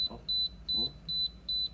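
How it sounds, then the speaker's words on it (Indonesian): A generator control panel alarm sounds a steady series of paired high-pitched electronic beeps, repeating evenly about twice a second, with faint low rumble and brief murmuring voices beneath. "tadi kan saya pencet dan di sini alarm ya"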